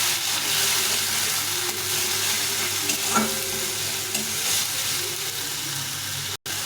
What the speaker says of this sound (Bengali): তার সঙ্গে দিয়ে দেবো কিছু লবণ হলুদ গুঁড়ো দিয়ে ভালো করে একটু কষিয়ে নেবো